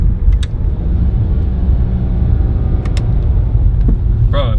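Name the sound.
BMW E90 downshifting with retrofitted paddle shifters while driving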